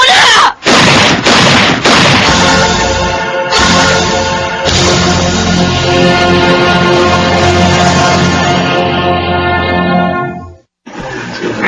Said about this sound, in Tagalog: Sige na, putok mo na yan, Gabriel!